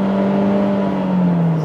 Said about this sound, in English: So if I put the car in neutral, it sounded like this.